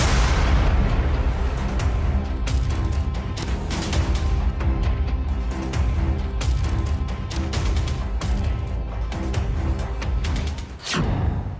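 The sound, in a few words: artillery explosions as Russian army attacks Georgia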